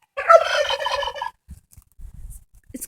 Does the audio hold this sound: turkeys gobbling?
yes